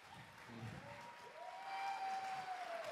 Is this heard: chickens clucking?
no